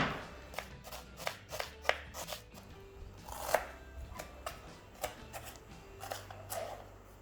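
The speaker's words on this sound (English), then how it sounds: "Chopping is happening there" A knife chops onions in quick, uneven bursts of sharp taps on a board while a large batch of mutton biryani is prepared, with quieter clatter between the strikes.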